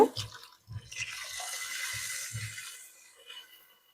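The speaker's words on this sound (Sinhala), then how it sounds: "අපි දැන් එහෙනම් වතුර ඇඩ් කරගමු." Water goes into a cooking pot for a spicy seafood boil, arriving as a few short splashes and drips, then a softer trickling pour that fades out.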